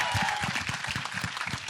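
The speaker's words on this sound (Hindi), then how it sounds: "सो जोरदार तालियां हो जाए इसी बात।" Audience at a film trailer launch event applauding, a short burst of many claps with a crowd murmur, moderately loud and fading slightly toward the end.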